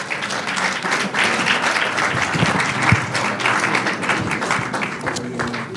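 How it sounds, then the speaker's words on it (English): Conference audience applause for a guest coming to the stage: sustained, dense clapping from a large crowd, loud and steady throughout with a few scattered louder claps. "give him a big round of applause"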